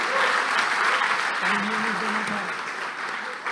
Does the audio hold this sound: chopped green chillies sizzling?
no